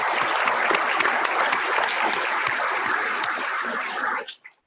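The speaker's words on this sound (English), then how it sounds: "So let's give them a round of applause." An audience applauds in a room at the 2018 HACC hackathon kick-off event, with dense, steady clapping that holds for about four seconds and then quickly fades out.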